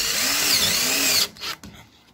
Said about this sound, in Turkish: Şimdi birinciyi vidaladım.